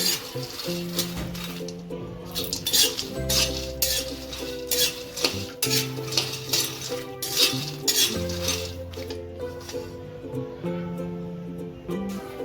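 Fox nuts (makhana) roasted in a pan over a low gas flame, light rattling and clinking as they are stirred and tossed, in rhythmic bursts with a faint sizzle beneath and music in the background.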